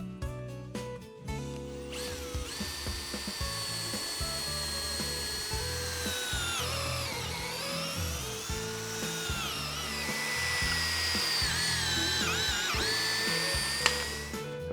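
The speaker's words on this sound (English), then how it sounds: "our holes are all drilled" Power drill boring holes through wood with a drill guide, a whining motor that rises and falls in pitch as the bit cuts, with short bursts of drilling at the start followed by longer sustained passes, close and loud.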